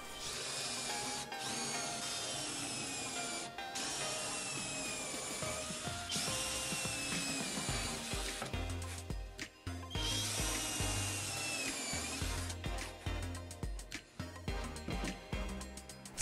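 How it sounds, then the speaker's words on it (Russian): A drill bores and countersinks plywood, a continuous loud whirring grind running throughout with brief pauses and changes in pitch. "А затем сверлим и зинкуем."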